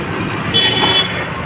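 A car passes along a wet, muddy road with autos and rickshaws around, a steady traffic rumble swelling briefly with a faint horn-like tone in the middle.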